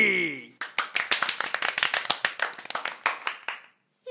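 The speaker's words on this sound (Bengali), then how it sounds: "সবাই হাততালি।" A group claps hands in a quick, uneven burst lasting about three seconds, sharp close slaps overlapping, bracketed by a voice speaking before and after.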